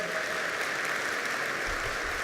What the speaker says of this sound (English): Let's give our performers another round of applause.